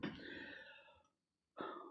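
A speaker still recovering from the flu coughs in a close, quiet room, one rough burst of coughing, a short pause, then another cough.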